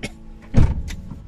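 Car power windows closing, a brief electric motor whine with a muffled thud as the glass seats, close and fairly loud.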